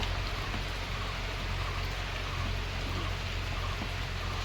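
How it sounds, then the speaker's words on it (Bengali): Heavy rain pours down in a steady, unbroken hiss with a low rumbling undertone in Ranaghat, no voices over it. "বাইরে হচ্ছে মুসুলধারে বৃষ্টি"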